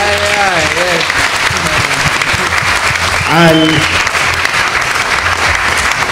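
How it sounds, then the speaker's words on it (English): Loud, dense crowd applause at a reggae concert at Reggae University 2013, continuous throughout, with a voice calling out over it a couple of times. "So clap them."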